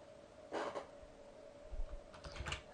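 Soft clicks of a computer keyboard, a short burst of keystrokes early on and another cluster near the end, faint and close against a quiet steady hum, with no one speaking.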